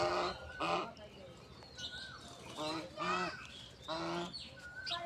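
Domestic geese honk in a farmyard, several loud nasal calls coming in separated bursts, some overlapping, with quieter chirping between them and no clear speech.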